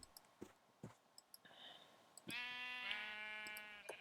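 Sheep bleating in Minecraft, a few soft clicks and blips first, then a loud, sustained, quavering bleat close by that holds for well over a second before cutting off, with no talk over it.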